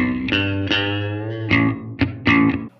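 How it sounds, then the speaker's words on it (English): Clean electric guitar picks a few notes and chords with a gentle reverb wash, each attack ringing briefly before the next, close and moderately loud. "A nice clean amp with a little bit of reverb sounds great for a clean gent."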